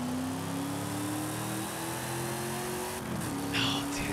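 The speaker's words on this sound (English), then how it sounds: "It is such a different engine sound than any other car that we've yet to have in the game." Eleanor car in Forza Horizon 5 idles and revs with a deep, bass-heavy engine tone, holding a steady low drone that dips briefly before rising again, loud and continuous with no talking.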